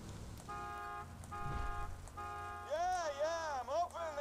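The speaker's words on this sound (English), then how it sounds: "you literally have to honk your horn" Car horn in Borderlands 2 blares in three sustained honks, then a warbling siren-like alarm follows; a voice is briefly heard beneath.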